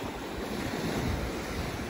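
Sea waves and wind on a Dutch sandy beach at Castricum: a continuous, loud wash of surf with gusty wind rumbling on the microphone, no voices.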